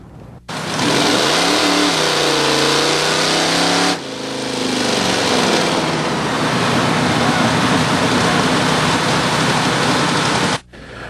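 V8 drag race on a beach between an El Camino 350 with a Turbo 400 and a 350 with a 671 blower: loud roaring engines rev and surge for several seconds, sustained heavy mechanical noise that cuts off abruptly at the end.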